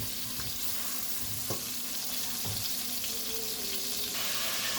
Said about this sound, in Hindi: दो मिनट हम फ्राई करेंगे।